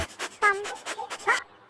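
Short, eager whimpers and yips from Andie, a Labrador in the cargo area of a 2020 Kia Telluride, a quick close burst of several high vocal sounds.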